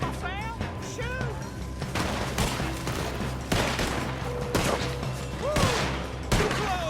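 Gunfire in Red Dead Redemption 2 crackles as scattered shots and volleys across a busy firefight, moderately loud and continuous, with voices shouting and whistling tones mixed in.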